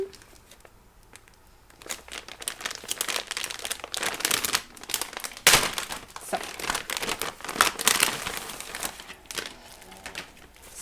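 Packaging crinkles and crunches steadily and close by, in a dense irregular run of rustling bursts with no talk over it.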